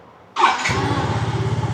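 A used 2015 Yamaha Fino 115i motorcycle starts up with a short cranking burst, then settles straight into a steady, close puttering idle.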